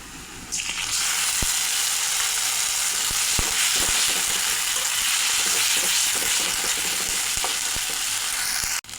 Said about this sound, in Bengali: পেঁয়াজটা আমার ভাজা হয়ে গেছে, এখন মশলা দিয়ে দেবো